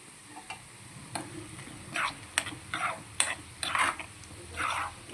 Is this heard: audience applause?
no